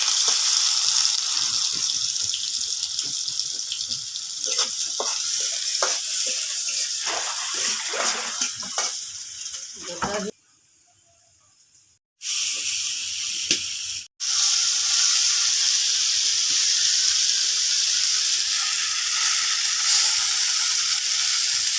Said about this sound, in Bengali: পেঁয়াজ দেওয়া হইলো।